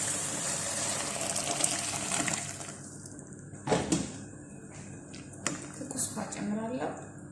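Water poured into a pot of meat soup being cooked, a sustained gushing splash in a kitchen that swells and fades in a few bursts, with speech over it.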